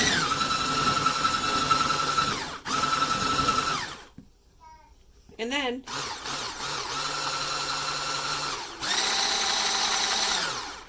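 Handheld electric whisk whirring in bursts as it whips a coffee sugar scrub base in a tall container, motor pitch shifting, with a short pause and a brief trigger-pull spin near the middle, talking heard throughout.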